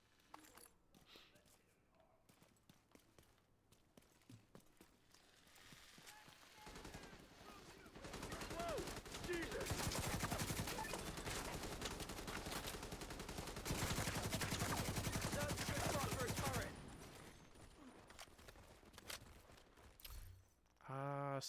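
Gunfire in The Division video game, in a snowy winter setting: sustained rapid automatic fire in two long, loud bursts that rise out of quieter ambient game sound, with mechanical clicks around them.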